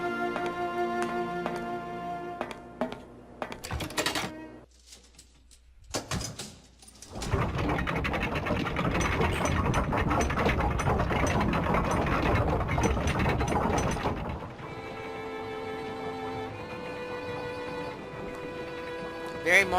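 In the video game Syberia, a mechanical lever clunks and ratchets, followed by a long grinding, whirring rumble of gears, then a sustained droning tone.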